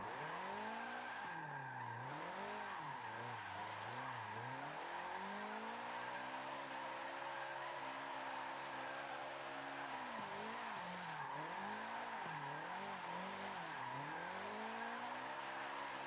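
A Subaru BRZ drifts sideways in the racing game Forza Motorsport 7, engine tones rising and falling continuously under repeated long tire skids and squeals, with no one speaking.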